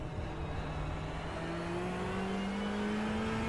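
A Ferrari GT3 race car at Silverstone runs at speed, its engine a steady droning whine rising gradually in pitch as it accelerates, continuous and fairly close, with no talk.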